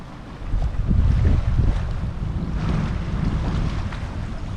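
Strong wind roars and buffets the microphone in continuous gusts over a large lake, with a low rumble of open water beneath.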